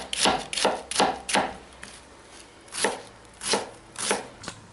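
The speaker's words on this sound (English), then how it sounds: "go start chopping your onions" A knife chops onions on a cutting board: a quick run of four strikes, a pause, then several more spaced chops, close and crisp.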